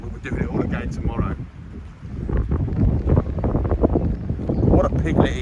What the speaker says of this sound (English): Stays windy like this, we're doing it all again tomorrow.